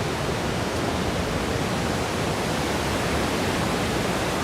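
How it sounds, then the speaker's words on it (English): Ocean surf at Torrey Pines near Del Mar, San Diego, California: a steady, full wash of breaking waves that never lets up, loud and close, with no voices over it. "This is all ocean, all waves."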